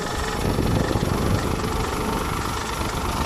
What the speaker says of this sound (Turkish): Çeviriyoruz şu anda. Tırmık çekiyoruz.